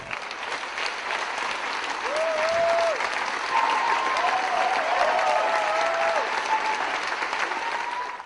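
An audience of music lovers applauds a British vocal group after a concert, a sustained, even wash of clapping from a large crowd, with a few faint whistles or cheers rising briefly above it.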